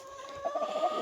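Hens in a Tamil backyard country-chicken flock give soft, steady clucks and murmurs close by, layered over a faint constant hum, with no one talking.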